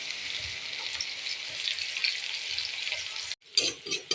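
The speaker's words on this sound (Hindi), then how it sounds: "और ऑयल गरम है ना तो प्याज भी डाल देती हूँ, नहीं तो लहसुन जल जाएगा।" Hot oil sizzles and crackles steadily with garlic in it, then onion drops in and the frying surges louder with bursts of spitting and stirring.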